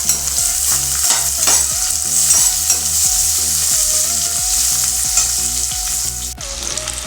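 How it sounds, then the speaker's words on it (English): Bitter gourd (karela) slices shallow frying in oil, batch by batch until crispy: a loud, steady, close sizzle with repeated stirring knocks and scrapes throughout, no voices. "partly I am taking these bitter gourds so that they become nicely crispy, and fry it"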